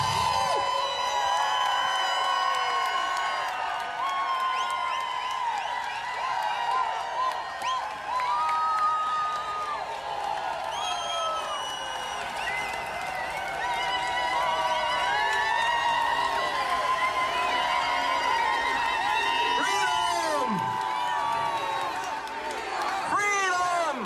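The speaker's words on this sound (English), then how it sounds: "I think we should have a cheer for freedom" A crowd at a public doctors' gathering cheers, whoops and applauds in a steady, loud wash that holds for the full stretch, with shouts rising above it and talk mixed in.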